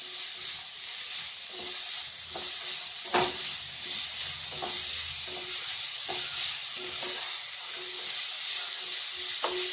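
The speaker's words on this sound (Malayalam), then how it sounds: "ക്യാരറ്റ് നന്നായിട്ടൊന്ന് വെന്ത് വരുന്നവരെ നമുക്ക് ഇതിനകത്തൊന്ന് വഴറ്റിയെടുക്കാം" Grated carrot sautéing in ghee for carrot payasam, a steady soft sizzle and hiss with scattered light stirring scrapes and taps, continuous and fairly close.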